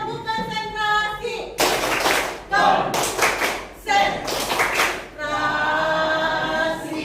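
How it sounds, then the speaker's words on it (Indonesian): A class of children does a rhythmic concentration clap in an Indonesian lesson, with bursts of loud, sharp group clapping alternating with a teacher's voice and children's chanting between them. "tepuk konsentrasi"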